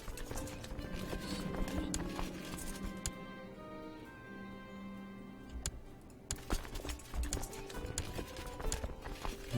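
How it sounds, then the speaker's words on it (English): A horde of mounted horse archers gallops in the Crusader Kings II video game, with a continuous rapid patter of hooves, tonal game music underneath and a few sharp clicks. "With my massive horse archer horde,"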